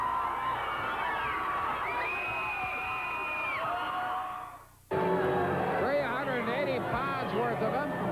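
A 1988 Stampede Wrestling arena crowd cheers for the Bulldogs, the Dynamite Kid and Davey Boy Smith, a sustained roar of shouts and whoops, briefly dipping before surging again, with a commentator talking over it.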